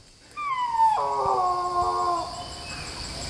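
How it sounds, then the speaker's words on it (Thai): A wolf howls in a forest, one long wavering cry that starts high, steps down and trails off over a few seconds, fairly close and clear above faint background noise. "แวร์วูฟนะเสียงหมาป่านะครับเมื่อกี้"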